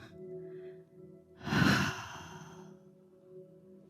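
A single long, slow breath during a yoga session: a soft quiet inhale and then a fuller, louder exhale that fades out gently, near and with no talk.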